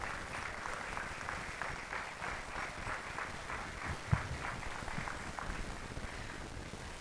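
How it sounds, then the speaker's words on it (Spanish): Applause from a folk-festival audience in Valsequillo, Gran Canaria, honouring town officials; a steady, fairly distant wash of clapping with a faint rhythmic pulse and one sharp thump partway through. "Fuerte aplauso para ellos, por favor."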